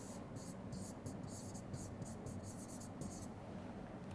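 Pen or pencil writing on paper during a history lesson, a steady soft scratching with rhythmic bursts of strokes, close and continuous throughout.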